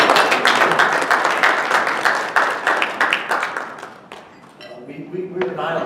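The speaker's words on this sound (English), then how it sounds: "Give Mayor Longport a round of applause." A room of breakfast guests applauds the mayor of Longport with a dense burst of clapping that gradually thins and fades out, followed by faint murmuring voices.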